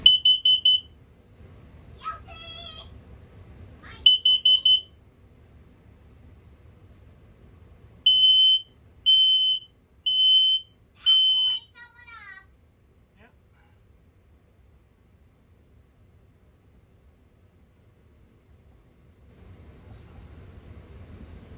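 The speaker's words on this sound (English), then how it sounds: "So that first one was the CO alarm. The second sound was the propane alarm." Two different RV alarm test tones: first a few bursts of shrill electronic beeping from a carbon monoxide alarm, then a run of four evenly spaced beeps from a propane alarm, followed by quiet with low background noise.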